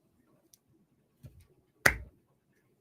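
A single sharp hand clap rings out clearly in a quiet room, preceded by a softer knock, with near silence around it.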